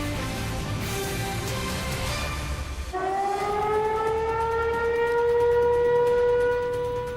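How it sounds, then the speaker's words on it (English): Tornado warning sirens in Middle Tennessee at night wail, rise and hold a long steady tone, loud and droning, with no voices. "Tornado sirens sounding off all over Middle Tennessee tonight."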